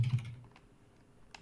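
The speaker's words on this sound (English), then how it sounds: "Are you typing an angry email to them?" Computer keyboard typing: a few quick, faint key clicks in a short burst, then a pause and one more soft tap, close by in a quiet room.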